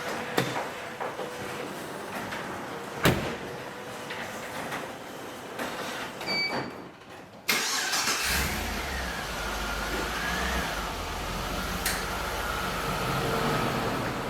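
A Holden VY SS Commodore sits quiet at first, with only faint clicks and scrapes, then its engine fires up about halfway through and settles into a steady, fairly loud running rumble, with no voices.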